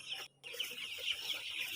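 Chickens at a poultry farm cluck softly and continuously in a shed, a low steady murmur of many birds with a brief pause near the start.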